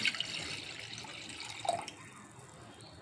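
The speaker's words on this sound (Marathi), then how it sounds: "आधी आपण पाणी घालतोय" A short burst of water running and splashing into a vessel of soya chunks nearby, tapering off to quiet after a couple of seconds.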